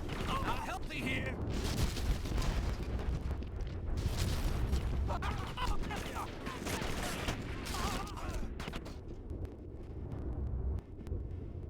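Bursts of gunfire in a PlayStation demo game, rapid overlapping shots and heavy blasts crowding together loudly over a rumbling backdrop, with a voice talking at times beneath the firing.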